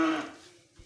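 A six-month-old cow on a farm gives a single short, fairly close moo that fades out quickly, with no talk.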